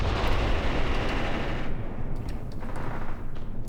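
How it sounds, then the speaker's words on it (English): Artillery pieces fire in the WWII tactics game Graviteam Tactics, a loud sustained roar of gunfire that drops away partway through, leaving scattered distant shots and rumble. "Let's see if I can get my artillery shooting again"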